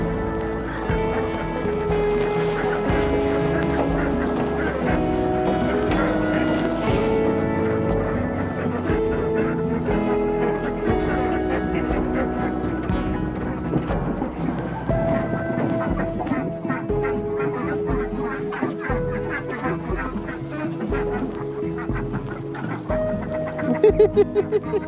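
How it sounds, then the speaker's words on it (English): Dense, continuous quacking from a crowd of ducks on a homestead, loud and close, with overlapping calls throughout and a burst of louder quacks near the end. "The quacking."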